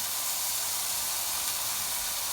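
Brinjal pieces frying in hot oil in a pan, a large piece set in the centre, give a steady, close, continuous hiss and sizzle that holds at even loudness throughout with no talk over it.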